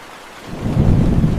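Thunderstorm with rain in the Amazon rainforest, a deep thunder rumble swelling in over steady rainfall and holding loud to the end.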